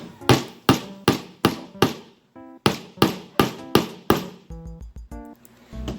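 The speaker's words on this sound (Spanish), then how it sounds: "utilizaremos la parte de abajo, o sea, la puntita del martillo, para clavar sobre nuestra superficie" A hammer drives a nail into a board, striking hard and steadily, about a dozen sharp blows in quick rhythm, close and loud, with a brief ringing metallic tone between some hits.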